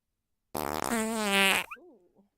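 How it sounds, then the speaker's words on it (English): A fart pig toy lets out a single loud, close electronic fart noise, a sputtering burst that stretches into a long buzzy tone, then trails off into a short squeaky wobble before silence. "You said that right after the fart pig went off"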